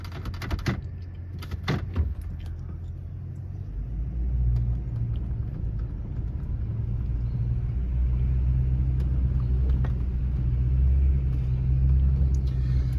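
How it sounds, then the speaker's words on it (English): A vehicle engine rumbles low and builds steadily while climbing a bumpy dirt driveway, with a few clicks and knocks from the cab early on and no talking. "Do a little downshifting here."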